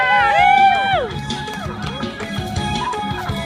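A crowd cheers and shouts at a Thai school sports day parade for colour teams, with busy mixed voices, children calling out and an announcer-like voice over the noise.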